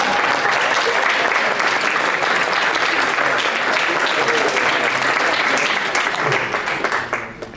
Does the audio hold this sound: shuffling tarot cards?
no